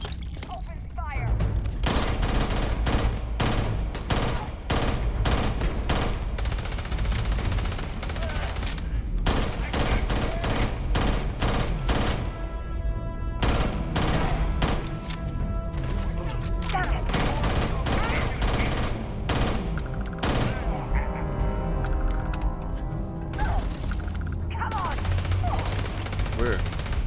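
Rapid bursts of gunfire from the video game Starfield, played with mods, with dense machine-gun volleys and sharp shots filling the whole stretch, loud and near, while voices speak over the combat.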